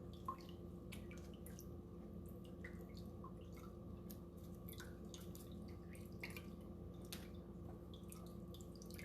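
Buttermilk drips from pressed homemade butter, a faint, irregular patter of small drops over a low steady background hum, with no voices.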